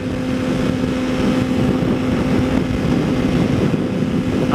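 A car cruises along a highway with a steady, dense road and engine drone and a constant tonal hum, unbroken and fairly loud throughout, with no talk.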